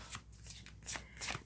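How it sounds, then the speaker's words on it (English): Tarot cards are shuffled by hand in three quick, soft riffling bursts, close and faint, with brief pauses between them. "having a hard time shuffling"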